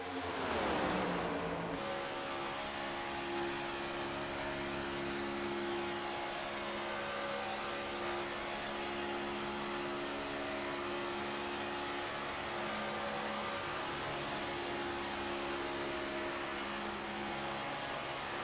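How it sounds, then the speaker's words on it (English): Race car engine drone at Talladega Super Speedway in a racing video game, riding the back bumper of another car in a pack: a steady, loud, continuous roar with sustained engine tones and no talk. "We're going to ride at the back bumper Dan Hill's machine and it's going to be probably pretty loud."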